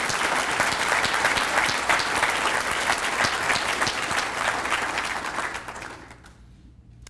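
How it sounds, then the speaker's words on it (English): A large audience at a school district State of the District address gives sustained, dense applause that holds steady for several seconds before tapering off toward the end. "So Kevin Ozzie, let's give him a round of applause."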